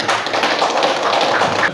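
A classroom group claps for the first team's answer, a dense burst of hand claps that lasts under two seconds and carries no speech.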